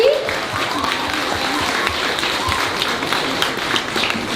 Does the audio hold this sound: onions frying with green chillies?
no